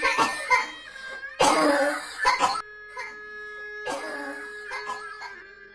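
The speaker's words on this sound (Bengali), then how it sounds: "সেই রাতেই হঠাৎ মায়ের কাশি আরও বেড়ে গেল।" A woman coughs hard in repeated harsh bursts, three clusters separated by short pauses, close and loud over soft sustained background music.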